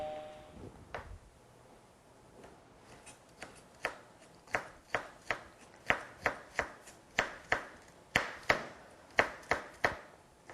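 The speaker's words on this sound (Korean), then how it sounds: "홍피망 썰어서 한 큰술 정도 되게" A knife chops red bell pepper on a board, starting with a few scattered cuts and building into a steady run of sharp, close, evenly spaced chops with no talking.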